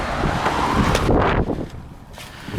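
Gusty wind buffeting a microphone outdoors beside a 2003 BMW 325i, a loud broadband rumble and whoosh that eases off toward the end, heard alone without speech.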